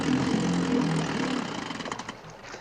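A motorboat engine from The Birds (1963) hums steadily at moderate level, fading and turning into a softer putter near the end as the engines are cut.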